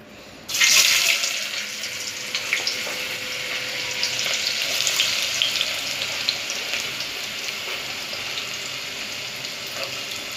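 Chopped onion hits hot oil in a pan for mutton curry, setting off a sudden loud sizzle that settles into a steady, bright frying hiss, close and continuous.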